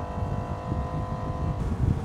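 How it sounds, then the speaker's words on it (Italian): A BWA Sport 28 GTO C rigid inflatable boat's engine at full throttle after cruising at 30 knots, a steady loud mechanical drone with low rumbling that rises slightly in intensity toward the end. "sono a 4500 giri minuto, sto procedendo a una velocità di crociera di 30 nodi e do gas. Che ruggito!"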